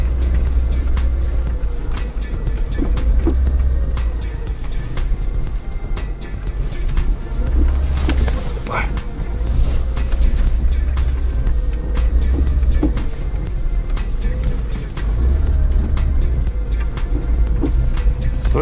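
A Lada 4x4 with locked differentials drives through snow, its engine droning steadily and loudly throughout in low gear, with rumbling low-end strain and occasional rough surges as it pushes along.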